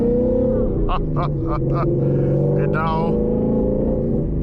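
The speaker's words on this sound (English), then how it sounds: "BORLA exhaust Mustang" A Ford Mustang fitted with a Borla ATAK exhaust idles with a loud, steady rumble near the listener, then gives several short revs in quick succession; a voice speaks briefly over the engine.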